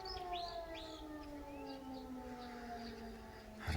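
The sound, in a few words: air raid siren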